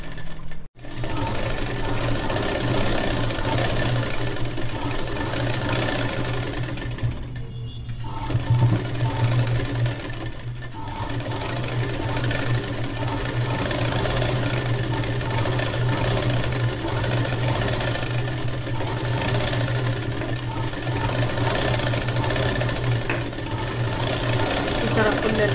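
Sewing machine stitching along the border of a child's long gown, a loud, steady mechanical whir with rapid needle rhythm running almost continuously, with a few brief stops.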